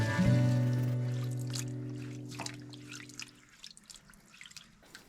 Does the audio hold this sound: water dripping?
yes